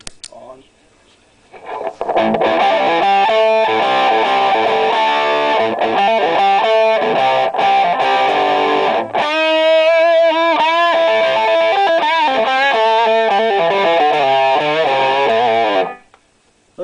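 A loud, bright electric guitar plays distorted chords and sustained notes with a sharp treble edge through a Lenahan OC44 Rangemaster treble booster, starting after a brief quiet moment.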